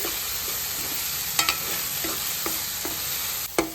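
Masala paste and turmeric for a crab curry fry in a pan, a constant close sizzle broken by a handful of sharp spoon scrapes and taps against the metal.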